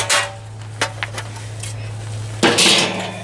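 A Slow 'N Sear metal insert is fitted into a charcoal grill with a few sharp metallic clanks and scrapes, ending in a louder rattling clatter.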